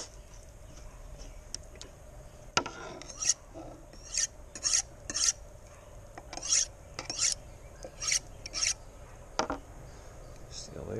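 A knife rasps against a bluefish fillet as the skin is cut away on a table, a series of short, quiet scraping strokes in an irregular rhythm, close by with faint talk around them.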